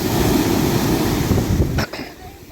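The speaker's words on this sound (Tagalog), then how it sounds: "Oh, taas ng alon, no?" High ocean waves roll in at high tide on a beach at San Narciso, Zambales, as a loud, rushing surf roar mixed with wind buffeting that drops away abruptly near the end.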